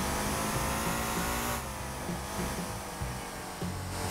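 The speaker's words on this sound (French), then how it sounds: "moteur de la Lamborghini" Lamborghini V12 engine in the Motortown driving game, a steady loud mechanical drone with harmonic engine tones that drops slightly in level partway through and carries on under shifting pitch, with no talking.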